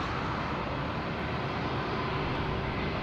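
British Airways airliner on the runway at Madeira Airport, heard as a steady, broad roar of jet engine noise that stays even throughout without any speech.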